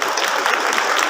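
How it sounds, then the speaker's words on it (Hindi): A brief burst of dense, steady audience clapping, close and even throughout. "एक बार इस बात पर तालियां हो जाए।"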